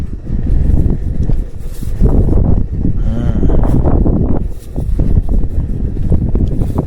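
Strong wind roars and buffets the microphone throughout at a campsite in Tagaytay, a loud continuous rumble with gusty swells and no voices.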